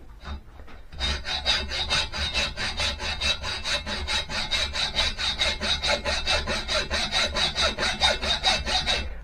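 A hacksaw cuts through metal during engine fitment work on an Ariel Bantam motorcycle, a steady run of quick, even back-and-forth strokes, close and loud, beginning after a brief pause with no speech.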